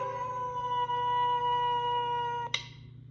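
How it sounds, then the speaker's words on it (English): A gray wolf gives a single long, steady howl close up, holding one clear tone for about two and a half seconds before it cuts off abruptly. "Gray wolf."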